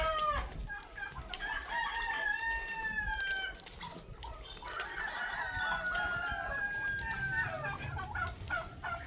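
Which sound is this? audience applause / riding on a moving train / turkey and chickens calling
turkey and chickens calling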